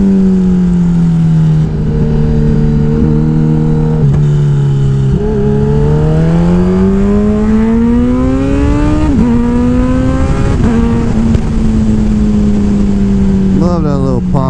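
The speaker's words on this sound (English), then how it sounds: "Love that little pop on the exhaust." A Kawasaki Ninja 1000SX motorcycle engine revs loudly and continuously, pitch rising and falling through the gears, with a few sharp exhaust pops near the end.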